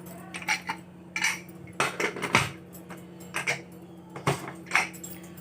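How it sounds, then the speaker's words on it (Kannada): Several sharp metallic clanks and clicks come close up as the lid of a pressure cooker holding ghee rice is handled and shut, in irregular bursts with short pauses between. "ಕುಕ್ಕರ್ ಮುಚ್ಚೋದು."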